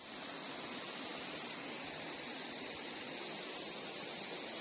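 Steady, dense roar of a waterfall at a camping and fishing spot, a constant broadband wash of falling water without pauses or voices.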